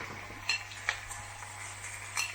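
Cooked bacon added back to a frying pan of liver, with faint steady sizzling and a few light clinks of a utensil against the pan.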